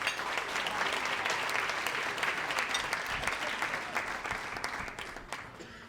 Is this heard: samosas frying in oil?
no